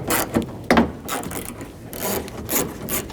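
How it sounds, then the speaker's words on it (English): A ratchet fitted with a 10mm socket and extension loosens a nut on the driver door handle of a 1999-2007 Chevy Silverado 2500HD, giving several close, loud bursts of rapid clicking with brief pauses between them. "Use the 10mm socket with an extension."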